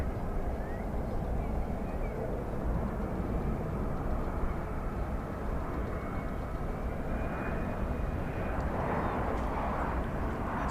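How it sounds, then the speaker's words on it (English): A large airliner takes off from the east side of the airfield at DFW Airport, its engines a broad, steady roar heard from a distance that holds without pause throughout. "That took off from the east side of the airfield."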